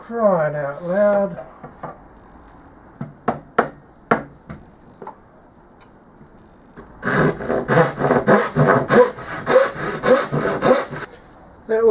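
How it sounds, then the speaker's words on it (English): Handheld circular skill saw cutting wood stock for a pattern, a loud whirring burst with rapid pulsing bites after a few sharp knocks and a brief voice at the start. "The obvious answer for how to cut this is going to be the skill saw."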